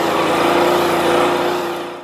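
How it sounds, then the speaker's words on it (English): Stihl BR200 leaf blower running steadily on low power in a garden, a loud continuous engine drone with a strong whining tone, held evenly for about two seconds before easing off slightly. "now I'm going to use the machine on low power just to make it into an even tighter and tidier pile"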